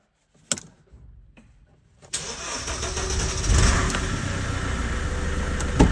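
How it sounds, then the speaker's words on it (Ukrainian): A Mercedes Vito W639 diesel van is cranked after a fuel pump fault: a few faint thumps, then the starter catches and the diesel settles into a loud, rough, steady idle close by. "Бус я завів."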